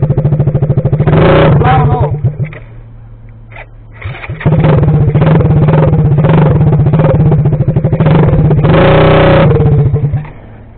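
A CRF 50 or Coolster 50 pit bike's small engine runs loudly with a steady buzzing drone. It revs up and down, dips around the middle, then picks back up, and voices talk over it throughout.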